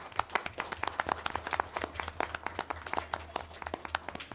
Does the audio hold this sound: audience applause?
yes